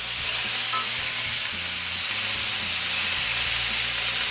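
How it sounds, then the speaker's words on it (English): Root beer–glazed pork tenderloin sizzles steadily in a hot pan right after being flipped, a dense, continuous frying hiss close up with no talk. "let's flip this over"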